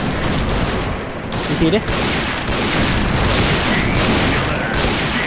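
Rapid sniper-rifle gunfire from a PSG1 in the shooter game Point Blank rattles loudly and continuously under overlapping game noise, with a voice talking over it.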